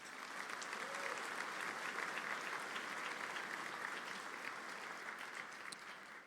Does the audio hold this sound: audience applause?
yes